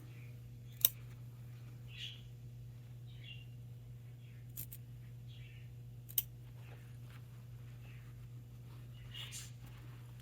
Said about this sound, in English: I cut right up along the middle, and then up to the corner to the stitches, but not through them.